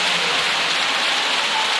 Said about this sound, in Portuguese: Ginásio inteiro aplaude.